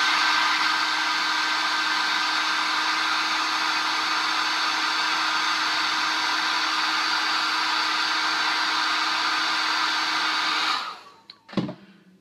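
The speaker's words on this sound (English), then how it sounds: "I'm going to finish this by taking my hairdryer and dry it" A hair dryer runs steadily with a loud, constant whirring hum while drying paint on a plastic Reaper Bones ogre miniature, then is switched off with a brief clatter near the end.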